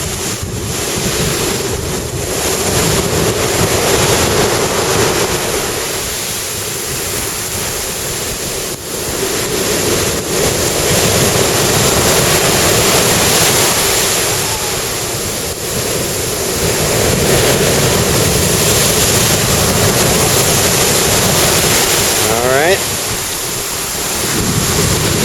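Big ocean waves roll and crash continuously at Lamai Beach, Koh Samui, a loud steady surf roar mixed with heavy wind buffeting the microphone.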